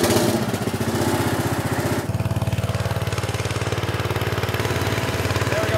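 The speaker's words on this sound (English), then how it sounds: "The prize at the end is hearing the engine start up for the first time." A tractor engine runs loud and close with a fast, steady chugging pulse that shifts slightly in character about two seconds in, then holds an even rumble with no voices.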